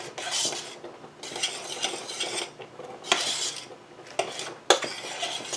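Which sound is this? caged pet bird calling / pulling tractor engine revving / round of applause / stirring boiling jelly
stirring boiling jelly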